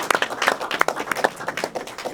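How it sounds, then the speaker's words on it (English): Audience applause welcoming a World War II flyer at a panel event, a dense crackle of many hands clapping throughout at moderate volume. "Please give him a warm aloha and a round of applause."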